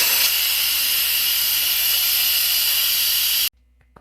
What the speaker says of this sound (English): So you have to release the steam.